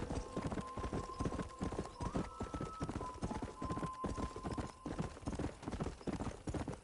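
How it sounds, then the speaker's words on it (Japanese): Quick, continuous hoof clip-clop from a horse in the video game Red Dead Redemption, a close, even galloping rhythm filling the whole stretch under a faint sustained tone. "馬の足音いいな。"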